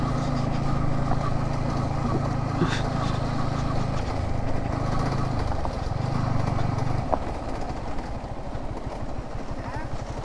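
A Yamaha MT15 motorcycle rides a dangerous forest road between Valparai and Athirapally, its engine droning steadily and close with wind rumble, then easing slightly in pitch partway through.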